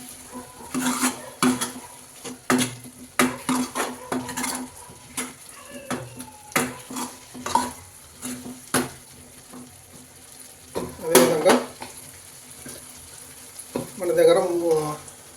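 Pea chaat being mixed with freshly chopped coriander in a pan, with repeated spoon clatters and scrapes against metal and a soft wet stirring that rises into a louder burst near the end.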